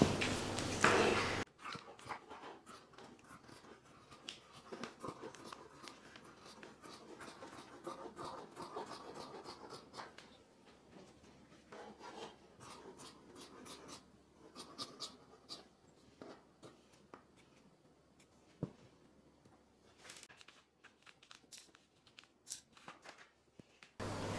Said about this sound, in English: So I'm just gonna cut like a natural curve.